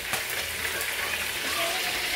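Sliced eggplant frying in hot oil in a pan gives a steady, close sizzle with fine crackling that holds evenly throughout.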